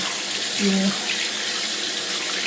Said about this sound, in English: rinse it, wash all the bacteria and viruses off your hands